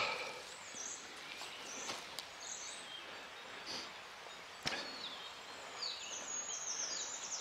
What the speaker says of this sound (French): On entend les oiseaux, le bruit de la rivière.